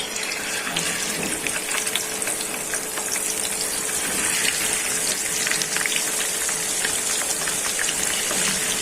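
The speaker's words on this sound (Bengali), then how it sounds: "তেলটা গরম হয়ে গেছে, একে মাছগুলো দিয়ে দিচ্ছি।" Pabda fish frying in hot oil in a pan, a steady, close hiss and crackle of sizzling that continues evenly throughout.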